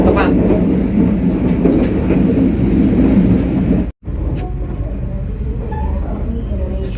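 Aboard the Wijayakusuma passenger train pulling into Banyuwangi Kota station, a loud steady rumble of wheels and carriage noise fills the cabin, briefly cutting out midway, with people talking underneath.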